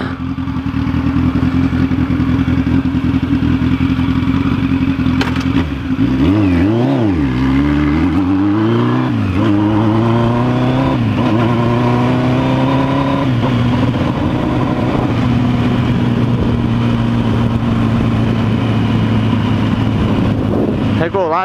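A motorcycle engine revs up and down close by, with rising and falling pitch sweeps as it accelerates through gears, then settles into a steady loud drone for the remainder.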